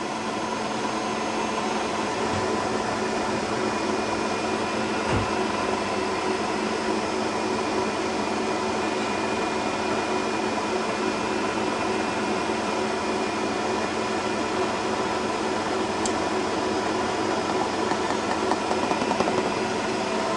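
A whisk beats egg whites with sugar into a soft meringue for whisky soufflés, making a steady, continuous motor whir that holds an even level throughout with no talking.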